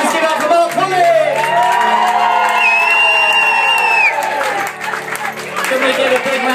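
Audience applause and cheering at a celebration for Marc Codling, a dense, loud crowd roar with whoops and clapping sustained throughout, voices shouting within it.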